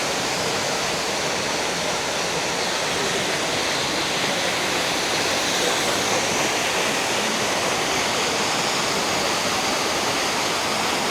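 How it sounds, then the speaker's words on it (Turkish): Constant rushing roar of Sütüven Waterfall in Edremit, broad and steady throughout, with no voices. "şelalenin olduğu yer böyle"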